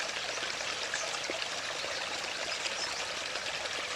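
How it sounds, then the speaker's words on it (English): Storm water runoff pours into a pipe beside a road, a steady close rushing and gurgling of turbulent water that continues without pause and without any voices. "Here's the water entering the pipe on the Porce side of George Hill Road."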